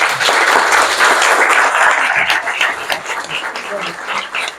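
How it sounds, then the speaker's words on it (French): An audience at an art exhibition opening in Martinique applauds loudly and steadily, a dense close burst of clapping that thins slightly toward the end with some voices mixed in. "je vous demande déjà de l'applaudir"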